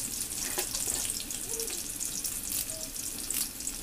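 Mustard seeds and dried red chillies fry in oil in a clay pot, sizzling and crackling steadily, a bright continuous hiss with occasional small pops, close and moderately loud.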